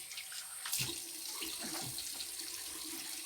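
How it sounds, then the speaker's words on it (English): A bathroom tap runs to rinse a safety razor, a steady soft rush of water with a brief louder splash near the start, fairly close and quiet, no voices. "Okay, time to rinse."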